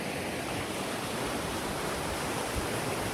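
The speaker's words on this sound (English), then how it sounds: "I'm by the river" A river in Kananaskis at around 5 a.m. on a rainy camping weekend gives off a steady, even broadband rush of flowing water with no voices.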